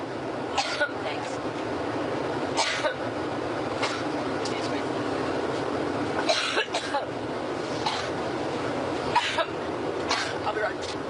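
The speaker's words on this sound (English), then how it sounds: "interrupted by a coughing fit, the second coughing fit that she's had today" A candidate has a coughing fit aboard her campaign plane during a press conference, with repeated harsh coughs and throat clearing in bursts over a steady cabin hum.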